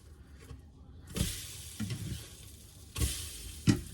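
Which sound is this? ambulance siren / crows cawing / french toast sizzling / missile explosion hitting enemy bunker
french toast sizzling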